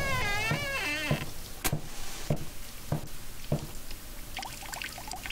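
Water pours from a tap in the horror video game The Midnight Man, a steady running stream under game sounds, with a rising tonal sweep at the start and several sharp clicks spaced through the clip.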